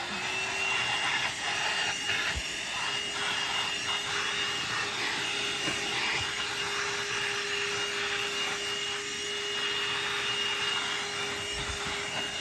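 A corded car vacuum cleaner runs steadily for the whole stretch, a constant whining drone with a tonal hum and a few light knocks.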